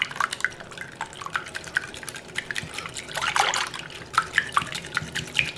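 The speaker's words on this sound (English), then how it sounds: "Now we're going to go in with our milk." Milk poured into lightly whisked eggs in a bowl for French toast, a soft close trickle and splashing with scattered drips, quiet and alone.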